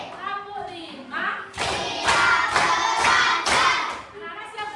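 A classroom of children claps together in a rhythm routine, several loud, sharp, unison bursts of hand claps in quick succession, with children's voices calling out over and between them.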